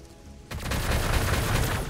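A burst of rapid gunfire in the strategy game Warhammer 40k Gladius with Adepta Sororitas units, starting abruptly after a quiet moment and rattling on densely and loudly.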